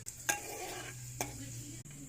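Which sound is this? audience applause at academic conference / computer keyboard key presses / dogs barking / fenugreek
fenugreek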